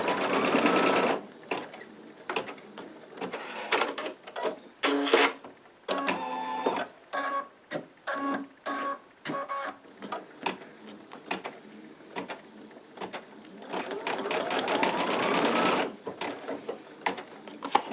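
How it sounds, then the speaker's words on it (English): An embroidery sewing machine stitches in the hoop over pieces of elastic on a Christmas cracker cover, its rapid mechanical whirring running in bursts with short pauses and a faint voice briefly heard. "it's just going to stitch over and seal in those pieces of elastic"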